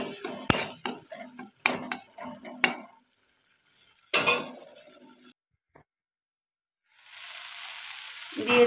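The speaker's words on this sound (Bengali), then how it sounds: "অল্প জল দিয়ে আমি মশলাটা ভালো করে কষিয়ে নেব।" Spice paste for a fish curry with parwal cooked down with a splash of water in a pan, with brisk scraping stirs and clinks of a utensil over a hissing sizzle, then a brief silence and the frying hiss returning.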